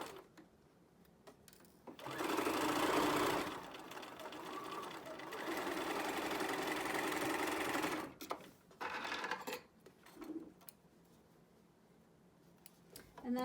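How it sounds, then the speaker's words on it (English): A sewing machine top-stitches down a folded fabric seam in two sustained runs, a steady close whirring hum with short pauses and faint handling clicks between them. "Fold it over 1/4 inch, fold it over your seam, and top stitch it down."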